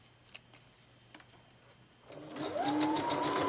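A sewing machine stitches through a stack of paper strips. A few faint clicks come first, then the motor whirs up and runs loud and steady to the end.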